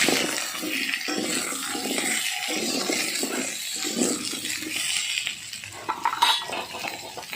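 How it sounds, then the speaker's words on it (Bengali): Cut eggplant and potato being stirred in a pan over toasted cumin, with steady scraping and soft clinks of a utensil against the pan, close and moderately loud, no voices. "এবার কেটে রাখা বেগুন আর আলুটা দিয়ে দিচ্ছি দিয়ে একটু নাড়াচাড়া করে নিচ্ছি"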